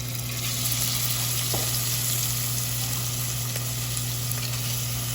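Bacon sizzles steadily in oil in a saucepan on a stovetop burner, a continuous close, bright frying hiss with no voices over it.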